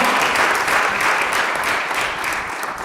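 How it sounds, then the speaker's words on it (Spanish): Congregation applause fills a church, dense continuous clapping from many hands, loud and close with no break across the whole stretch. "vamos a darle un aplauso al Señor por ese trabajo"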